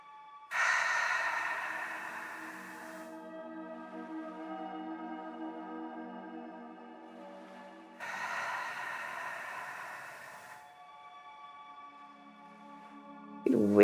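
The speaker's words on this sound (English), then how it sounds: "take a couple of deeper breaths in and out" Two slow, deep breaths during a yoga cool-down, each a soft airy rush lasting a few seconds, heard over sustained calm tonal background music.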